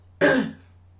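A single sharp cough-like throat clearing bursts out close by, loud and brief, fading over about half a second against a low steady hum.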